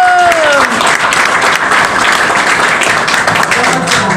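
An audience bursts into sustained applause during a speech thanking rabbis, loud dense clapping that carries on steadily, with a brief voice at the start.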